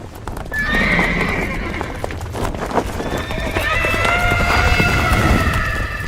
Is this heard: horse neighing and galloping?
yes